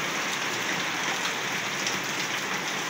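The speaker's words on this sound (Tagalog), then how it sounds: "At malakas ang ulan." Heavy rain falling outdoors around a laundry area, a dense, steady hiss of drops at constant loudness with no talk.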